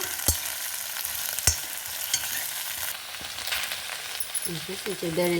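Chopped okra (bhindi) half-frying in an oiled pan for a palya, a steady close sizzle broken by sharp clicks of a stirring spoon, with a brief burst of voice near the end.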